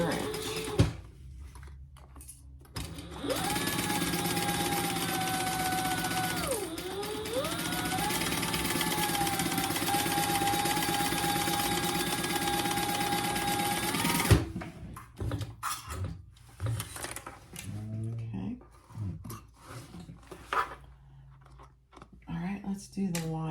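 A sewing machine runs a long continuous seam across the exterior of a lined boxy bag at a quarter-inch allowance with lengthened stitches, a steady motor drone at moderate level, then stops and gives way to scattered handling noises.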